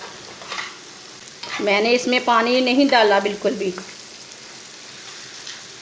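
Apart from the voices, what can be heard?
eggs frying in a pan with lentils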